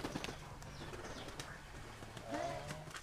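Pigeons coo softly around a loft, low rolling calls at a distance with faint chirps under quiet outdoor background noise.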